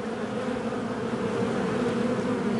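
Honeybees swarm around freshly installed hives in a flowering kiwi orchard, each hive holding about 50,000 bees, producing a steady, dense, close buzzing drone that continues without a break.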